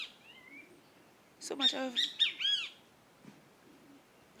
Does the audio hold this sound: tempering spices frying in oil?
no